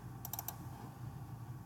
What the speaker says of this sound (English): we're going to just type in our things